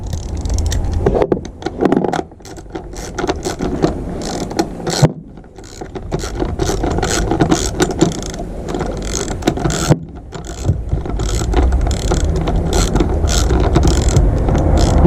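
Ratchet wrench tightening a spark plug bolt on a BMW MINI F56 JCW/Cooper S engine, loud close rapid clicking in repeated bursts with brief pauses between strokes, no talk.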